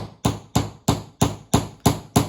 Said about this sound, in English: just line up the nail with the middle of your cap, and then just give it a few good hits with a hammer